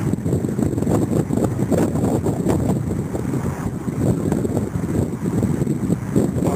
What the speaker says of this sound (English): Maybe you can hear the wind blowing. It's quite brisk right now.